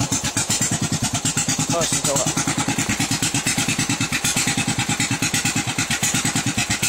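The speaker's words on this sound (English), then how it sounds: "This is a lot lower than what I have the carburetor set for to idle." Craftsman small engine idling lower than its carburetor setting, a close, steady rapid chugging pulse that holds even throughout, with someone speaking briefly over it.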